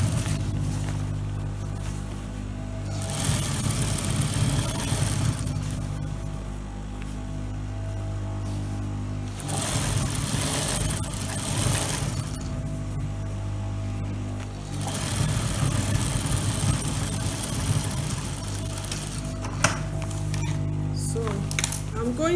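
Sewing machine stitching the waist of a long pencil skirt lining, running in several steady bursts of motor hum with short pauses between, fairly close and loud.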